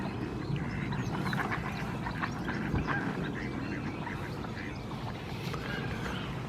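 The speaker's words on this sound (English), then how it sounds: "He's chasing off all the other ducks." Mandarin duck quacks among other ducks at a wildlife pool viewing hide, scattered calls over a steady outdoor background at moderate distance, with no talking.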